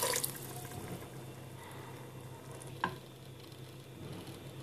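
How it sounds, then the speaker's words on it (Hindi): A glass of water goes into a pan of minced mutton with potatoes and peas, giving a quiet sizzling, trickling wash with a small splash or clink partway through. "और 1 गिलास पानी डाल दूंगी।"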